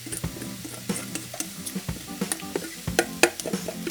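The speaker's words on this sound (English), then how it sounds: "Hear that sizzle." Steady sizzling of red bell pepper, chopped asparagus and broccoli frying in a sauté pan, with scattered clinks and scrapes of a utensil stirring against the metal.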